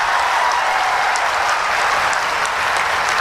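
Loud, sustained applause from a large crowd at a live public event in Gorakhpur with the Chief Minister during Navratri, steady dense clapping throughout with no speech over it.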